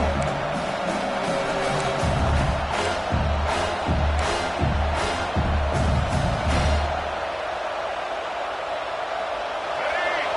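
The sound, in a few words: stadium crowd noise from a video game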